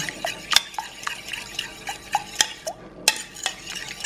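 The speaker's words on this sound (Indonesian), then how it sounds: "kaldu jamur ya kita kocok dulu sampai merata" Rapid clinking strokes of a whisk against a bowl as a mixture with mushroom stock and salt is beaten, steady light scraping taps close by, no voices.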